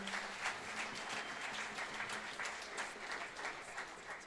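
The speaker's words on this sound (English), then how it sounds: "Give yourselves a round of applause." A high school jazz band concert crowd at an annual Jazz Cafe applauds in a soft, continuous wash of many hands, heard from a distance and fairly quiet throughout.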